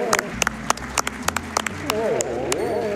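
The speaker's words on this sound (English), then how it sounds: "Let's give a round of applause for Dope so far" A few scattered hand claps ring out, then a voice talks over them for the final second.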